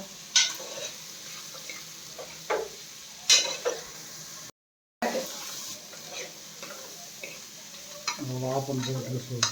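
White chickpea sundal stirred in a pan, soft sizzle under intermittent scraping and clinks of a spoon, with a short gap midway and a brief rise in sizzle near the end.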